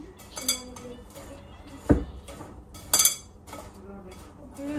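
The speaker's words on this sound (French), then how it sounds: "Et je rajoute également du sel. Je vais prendre le tout et je vais mélanger." Salt being mixed into ingredients in a bowl produces a few sharp clinks and knocks of a utensil against the dish, spaced irregularly over quiet kitchen background.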